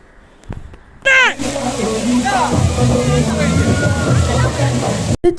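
Water rushing and sloshing at Music Falls waterfall, a continuous loud splashing that starts abruptly and fills the clip, with voices and shouts mixed in.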